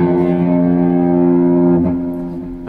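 A distorted electric guitar sounds a sustained flat second interval with a gritty, buzzing tone, ringing steadily before a brief change near the end.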